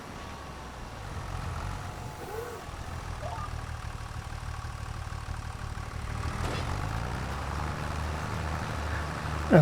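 A John Deere tractor engine in Farming Simulator 25 drones with a steady, low, continuous rumble, holding a constant pitch throughout with a faint whine above it.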